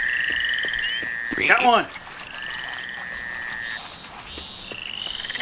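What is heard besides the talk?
frogs croaking in a Duck Dynasty video game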